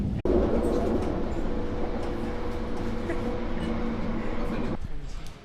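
A tram rolls past on a Belgian street with a steady metallic rumble and a faint high whine, close by and continuous for several seconds before fading, while people chat over it.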